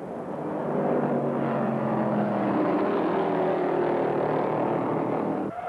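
Loud, sustained roar of stock cars racing at a 1968 NASCAR oval event at Rockingham, North Carolina, as a 1968 Ford engine blows in the second turn; dense engine noise holds steady for several seconds with no talk.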